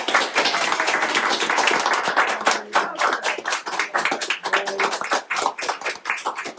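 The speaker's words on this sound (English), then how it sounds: "So I'd just like you to all join me in a round of applause in congratulating our newly married couple, Luke and Minnie." Wedding guests clap and applaud for the newly married couple, Luke and Minnie, at an Australian wedding, a close, lively patter of many hands that stays strong and then thins into uneven bursts toward the end.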